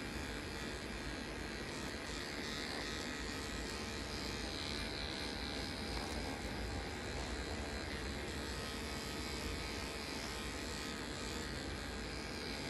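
A vibrating microneedling device hums in a steady, continuous buzz throughout an aesthetic skin procedure, close and even in level with no talk.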